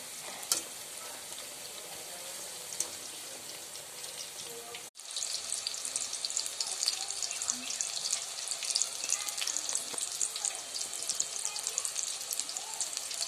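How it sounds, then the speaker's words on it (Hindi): Brinjal pieces fry in hot refined oil in a kadai, a steady close sizzle and crackle that continues throughout, briefly broken by a sharp cut. "तेल टी गरम हेबा परे बैगण को एपरि भाबरे छाणीबे"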